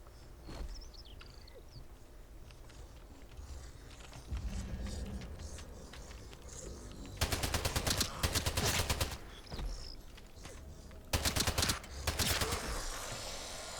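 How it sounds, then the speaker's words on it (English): Rapid SMG fire in the video game Atomfall comes in two loud, dense bursts of quick shots, separated by quieter combat noise and rustling movement. "Yeah, we're using our SMG."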